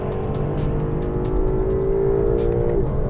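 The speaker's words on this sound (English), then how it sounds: "It's old school 5-litre V8," A Lexus LC with an old-school 5-litre V8 pulls hard under acceleration, its engine note rising steadily in a loud, close, continuous roar, with a brief shift near the end.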